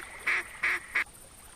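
A long range duck caller in theHunter video game sounds three evenly spaced nasal quacks, each short and loud over a quiet background hiss, with no talking.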